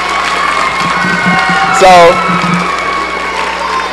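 A school audience at a middle school assembly applauds and cheers for a student, a mix of clapping, shouting and whoops from a crowd of kids, with a speaker's voice and a sharp burst partway through.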